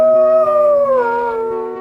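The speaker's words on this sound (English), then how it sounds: "the painter was teaching Green how to howl" A wolf gives a single loud, close howl: a sustained tonal cry that slides gradually downward in pitch and trails off, with no other sounds around it.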